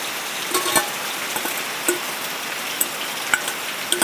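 Chicken sizzles in a pan with fried potato, onion and whole garlic, a steady crackling hiss with occasional sharper pops and clinks of stirring, close and alone.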